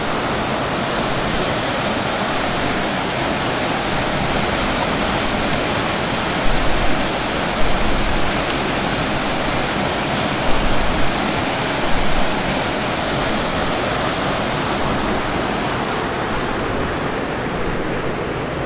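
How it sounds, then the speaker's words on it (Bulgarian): Water rushing over a weir on the Tundzha river, a loud steady broadband roar that stays continuous throughout, with a few faint brief knocks partway through. "Намираме се на бент река Тунджа."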